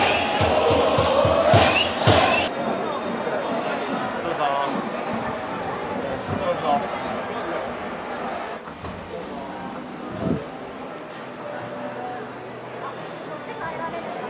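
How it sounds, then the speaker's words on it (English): Baseball fans chanting and cheering during a Giants game at the Tokyo Dome, rhythmic claps and crowd voices loud at first, then a continuous stadium roar with occasional sharp hits. "These guys don't stop cheering."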